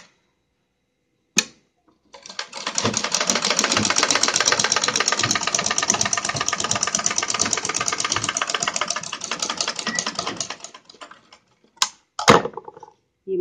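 A sewing machine runs a steady rapid stitching rattle for about eight seconds while sewing a bound seam, close and even, with a sharp click before it and a few handling knocks after it stops.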